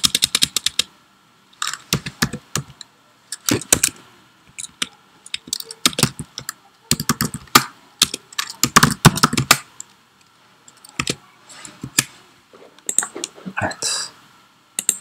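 Bursts of keyboard typing as code is entered on a computer, quick clusters of clicks broken by short pauses, close and fairly loud, with some speech in between.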